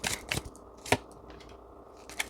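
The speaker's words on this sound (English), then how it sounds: "Let me shuffle again." Tarot cards being shuffled by hand give a few short, crisp bursts of card noise, close and fairly quiet, separated by stretches of near silence.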